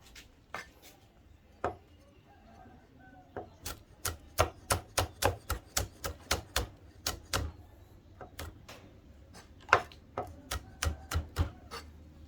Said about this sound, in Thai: คนชอบเผ็ดก็หั่นไปเลยครับสามสี่เม็ดใส่ไปเลย